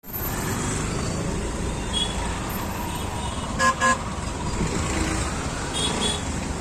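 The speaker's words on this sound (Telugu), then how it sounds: "ఇట్లా చాలా ట్రాఫిక్ ఉంది" Dense city road traffic in Bengaluru rumbles steadily nearby while car horns honk in a few short blasts, with a quick double toot standing out midway.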